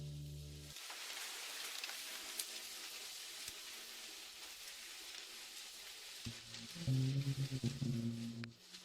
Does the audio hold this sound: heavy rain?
yes